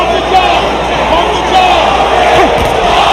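Boxing arena crowd cheering and roaring during a Bernard Hopkins versus Oscar De La Hoya fight, a dense steady wall of crowd noise with a commentator talking over it.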